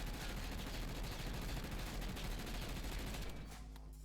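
A steady, unbroken stream of rapid automatic weapon fire from the video game Warzone, loud and close, with the burst held with recoil control for about three seconds before cutting off.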